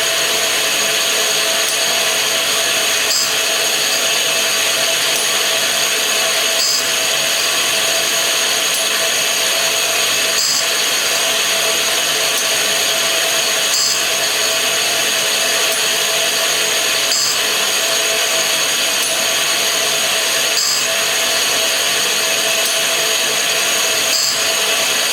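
A 100mm grinding wheel sharpening saws and cutters, a steady high whine from the spinning wheel with faint regular ticks every few seconds, running alone without talk.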